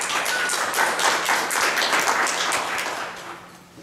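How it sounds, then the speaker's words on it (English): An audience gives a warm round of applause to Dr. Longoria at a 2013 community presentation in Laredo on working with Alzheimer's patients and families, dense steady clapping that gradually fades toward the end. "So please give her a round of applause"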